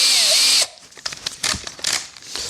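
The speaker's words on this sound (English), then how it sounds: "I'm just going to drill them enough so that they become pilot holes" A power drill whines loudly for a moment, boring pilot holes into a Stratocaster guitar body, then stops, followed by clicks and small handling knocks.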